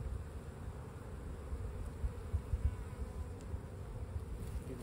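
Honey bees hum around an open Layens hive with pollen-laden foragers nearby. The soft, steady buzzing of many insects stays close and low-pitched, with a few louder passes, and no one speaks.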